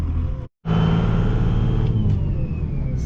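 2002 Dodge Ram 2500 Cummins 24-valve diesel pickup with compound turbos and a six-speed manual, driving with a loud steady engine rumble and a rising turbo whine after a brief cut near the start.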